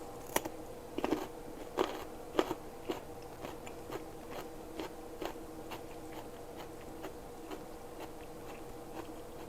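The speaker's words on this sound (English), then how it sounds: "You gotta hear my crunchy carrots from the garden." Close, crisp crunching bites of raw garden carrots, a few sharp snaps at first, then softer rhythmic chewing in an otherwise quiet setting.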